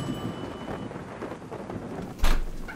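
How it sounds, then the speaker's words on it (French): A summer evening thunderstorm rumbles with a steady wash of rain, then a sharp, louder thunder crack near the end, with no voices. "Par un soir d'été, Baguette arrive sous un orage tonitruant à la maison de Gaillard et Gavotte."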